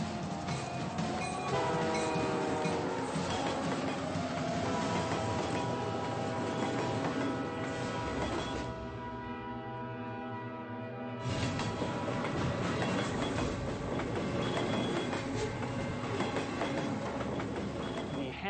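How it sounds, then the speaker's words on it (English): A train rumbles past on railway tracks near a rural river crossing, loud and continuous with rhythmic wheel clatter, briefly dipping in intensity midway before surging back at full strength. "Jeff, there's a train."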